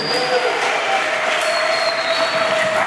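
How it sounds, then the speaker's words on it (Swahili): A church congregation claps together during a Sunday service, a dense, steady wash of applause that fills the room at close range for the whole stretch. "Wanaonielewa wampigie Yesu makofi"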